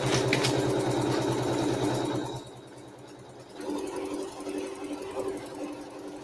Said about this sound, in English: now we're going to sew the tack down for this fabric